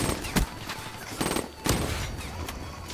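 Submachine gun fire in the video game Black Ops 3 during online multiplayer, short sharp bursts repeating across a few seconds over busy game noise.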